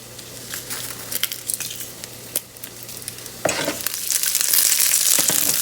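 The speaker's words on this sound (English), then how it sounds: "I'm gonna let this saute for about 5 minutes on a medium flame" Garlic, curry leaves and red chilies sizzle in oil in a pan, with a spoon stirring and scraping in bursts. The frying swells louder and hissier about halfway through and stays steady and close, with no talking.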